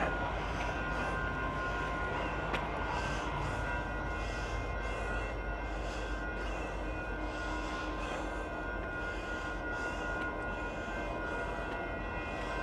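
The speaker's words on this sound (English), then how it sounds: "Oh, here comes a train." A continuous low rumble of a train rolling past at a distance, steady and broad, with no voices.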